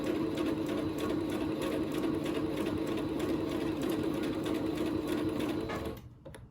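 A sewing machine runs a steady, fast, continuous stitch along a men's shirt seam, back stitching at the end, close and loud, then stops abruptly.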